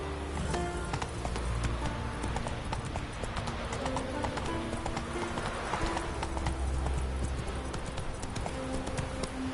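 Hooves of the horse Roach clip-clop in a steady, even rhythm throughout a PS4 video game scene, close and continuous over soft game ambience.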